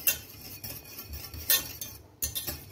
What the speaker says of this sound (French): vous allez commencer par mettre le beurre à fondre. Vous allez vous aider d'un fouet